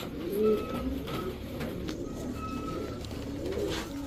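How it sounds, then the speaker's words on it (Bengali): A pair of Road Master pigeons coo nearby in soft, throaty, rolling calls that repeat at intervals, with faint higher chirps and light background rustle between them. "এক পেয়ার সাপচিলা কবুতর রোড মাস্টার"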